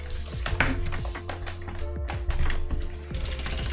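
Fingers type on a computer keyboard at close range in irregular bursts of quick clicks, with a low steady hum underneath and no talk.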